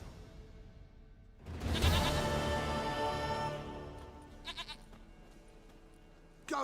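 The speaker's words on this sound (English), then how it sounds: "sweetest goat." A goat bleats in The Witcher 3: Wild Hunt, a loud, wavering, drawn-out harmonic cry rising suddenly from quiet, followed by a few shorter, softer sounds and another sharp onset at the very end.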